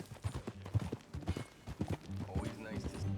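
Horse hooves clip-clop at a steady riding pace in the Red Dead Redemption 2 video game, mixed under speaking voices and background game sound.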